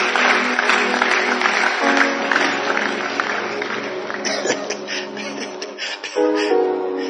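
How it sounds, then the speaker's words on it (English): A church congregation claps along amid loud music with sustained tones, the many hands blending into a busy, rhythmic texture that swells and shifts over several seconds. "If you want to clap, clap, clap, clap well."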